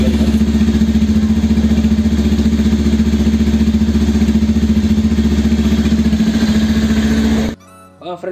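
A Bajaj Pulsar 180F motorcycle exhaust idles loudly and close by with a steady, pulsing throb, then cuts off abruptly near the end.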